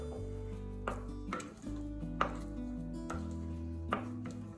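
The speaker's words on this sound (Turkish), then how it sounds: "bu harcı bir kere şöyle tahta kaşıkla karıştırıyorum" A wooden spoon works through a banana tart cake batter in a bowl, giving soft repeated scrapes and several distinct knocks against the bowl at an irregular pace, quiet and close, with no talking.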